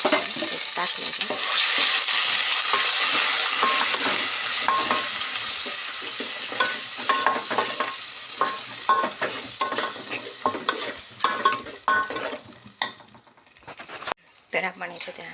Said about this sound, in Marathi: आपला हा काळा मसाला वाटलेला त्यात टाकून घेऊ आपण